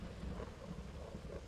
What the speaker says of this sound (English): that lightning. A storm that is approaching.